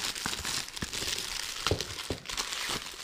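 Foil wrapping crinkles and tears as a Peppa Pig chocolate Easter egg is unwrapped by hand, close-up with continuous crumpling and a few sharper rips.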